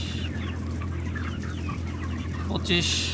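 Chickens in an enclosed, temperature-controlled poultry shed, soft continuous clucking and murmuring over a steady fan hum, with a sharper squawk near the end.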